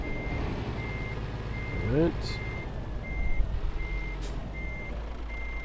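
Reversing beeps from a truck in Euro Truck Simulator 2 as it backs up to attach a 21-ton fuel trailer, a steady evenly spaced series over a low engine rumble, with a brief spoken word.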